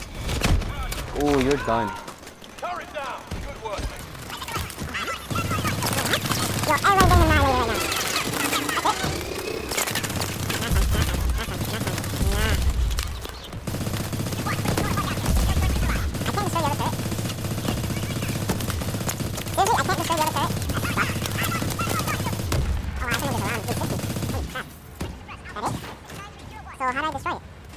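Rapid automatic gunfire and explosions from the video game Call of Duty Advanced Warfare, heard in loud bursts across the stretch, with someone talking over the battle.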